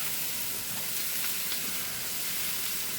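Potatoes, onions, orange peppers and celery cooking in a pot, giving a steady, loud sizzling hiss without pause or talk.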